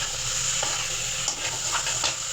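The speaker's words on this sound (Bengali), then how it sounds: "এটা মাছটা দিয়ে একটু মশলাটা দিয়ে নেড়ে নেবো" Fried fish is stirred into cooked spice masala for a fish curry, with a dense continuous sizzle close up and a few soft scraping strokes of the spatula.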